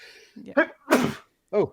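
A single sharp sneeze bursts out in the middle of talk during an NBA playoff picks discussion, loud and close, with speech just before and after it.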